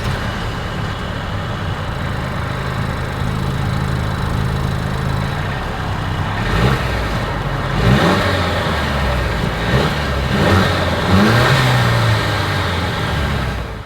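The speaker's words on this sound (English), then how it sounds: "As always, here is that exhaust clip." A 2023 Mercedes-Benz C 300 Coupe with dual exhaust idles with a steady low rumble, then revs up in several short bursts before settling back, loud and close.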